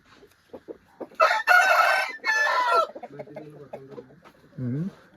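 A fighting rooster kept for Sankranti cockfights crows loudly and close by, then clucks in short bursts while people talk nearby.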